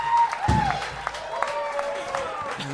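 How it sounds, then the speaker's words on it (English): A comedy club audience applauds and cheers for a stand-up comedian, a dense wash of clapping and crowd noise held steady throughout, with whistles rising above it. "the crowd's going crazy for William Montgomery."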